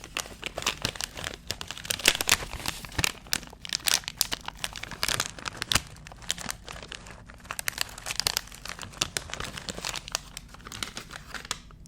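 Close, quiet crinkling of packaging, dense irregular crackles and rustles throughout, alone with no talking.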